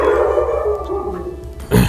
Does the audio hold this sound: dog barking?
yes